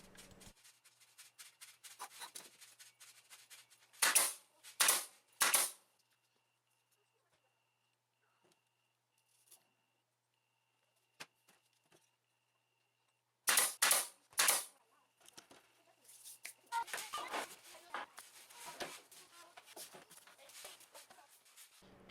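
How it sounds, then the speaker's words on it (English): A brad nailer fires into the sides of a wooden shelf during glue-up, snapping out sharp, loud shots in two tight bursts separated by quiet gaps, with some rubbing and handling noise around them. "now I just need to glue and brad nail the sides to the shelf"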